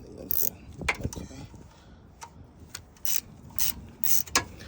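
A ratchet wrench works a bolt on a 2017 Nissan Sentra engine, making bursts of rapid clicking in short strokes, close and mechanical, with some muffled handling noise between.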